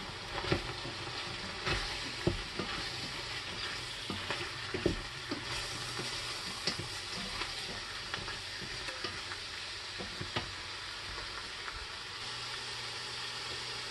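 Garlic, mushrooms and beef sauté in a pot, a steady close sizzle broken by irregular scrapes and knocks of a spoon being stirred through, with no talking.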